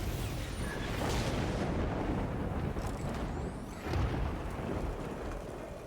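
Heavy rain pours steadily in the video game Death Stranding, with rumbling thunder swelling twice, loud and close, and no voices.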